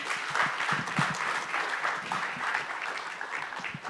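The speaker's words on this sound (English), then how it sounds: "A huge round of applause for that" Audience applause at an official Guinness World Record presentation event, a steady dense wash of many hands clapping throughout, fairly distant and even in level with no clear talk.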